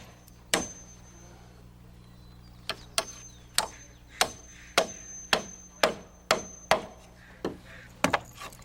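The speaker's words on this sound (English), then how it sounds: "Then a toenail into the plate, and 3/16 into the joist where they lap." Hammer blows driving nails into roof blocking and rafters, toenailing into the plate and joist, about a dozen sharp, loud wooden strikes in uneven bursts with short pauses, over a faint steady hum.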